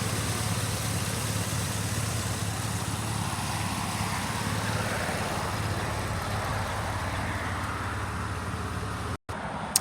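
A 2015 Chevrolet Camaro SS with the 2SS package idling quietly, a steady low engine hum held at an even level close by, with a brief dropout near the end.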